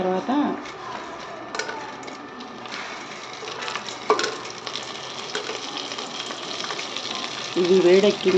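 Ingredients for pulao fry in a pan with a strong, continuous sizzle and crackle, punctuated by a few light clicks and a scraping stir near the end, while a voice talks over it.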